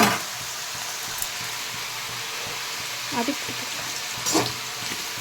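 Tomatoes and curry leaves sautéing in a pan make a steady, close hiss of frying with a few soft stirring sounds, and a voice briefly speaks over it.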